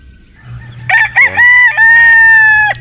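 A Sweater Boston bloodline gamefowl rooster crows loudly and close by, one long strained cock-a-doodle-doo rising through a few short broken notes into a sustained, wavering final call, with faint farmyard background underneath.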